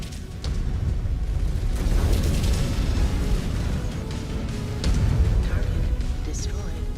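Missile explosion in the MechWarrior video game, a broad rumbling blast with heavy low-end boom, swelling again midway through amid ongoing battle noise, while a synthetic voice speaks over it.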